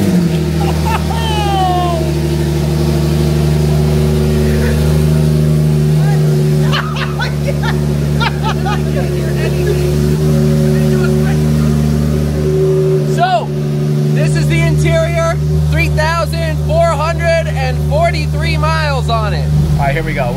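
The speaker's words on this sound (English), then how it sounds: "I guess I could do a quick little rev if you guys want to hear it. Turbos sound absolutely insane." A turbocharged Porsche engine runs steadily with a loud, deep, continuous drone that holds through the whole stretch, while a person talks over it.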